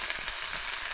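Steady sizzling and crackling of food frying in a hot pan, with faint scraping as ingredients are tossed, continuous and fairly close.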